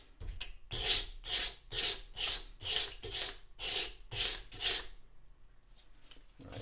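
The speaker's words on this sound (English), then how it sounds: "let's start with some coarse sandpaper and we'll get rid of those file marks." Coarse sandpaper rubs back and forth across a steel hammer face, about ten steady rasping strokes in an even rhythm, close and fairly quiet, then stopping.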